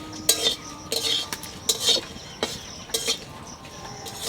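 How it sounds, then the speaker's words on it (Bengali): Dry red chillies being fried and stirred in a pan, a metal spoon scraping and clinking against it in short repeated bursts, close and fairly loud, with no talk. "তা শুকনো লঙ্কা কটা আগে বাজিয়ে নেবো।"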